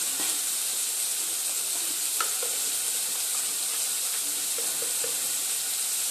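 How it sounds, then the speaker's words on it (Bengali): Spices fry in oil in a pan for crab curry, giving a dense continuous sizzle with faint scrapes and taps from stirring, loud and close, with no one speaking. "সব মশলাগুলোকে এবার খুব ভালো করে নেড়ে চেড়ে নেব"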